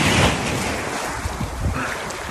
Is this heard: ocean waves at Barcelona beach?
yes